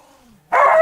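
A dog in a garden gives a soft whine that slides downward, then one loud, close bark.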